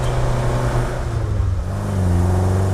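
Alfa Romeo GT Junior with a small four-cylinder engine holding a steady, loud rev with a deep, throaty tone, rising slightly toward the end, heard close and alone.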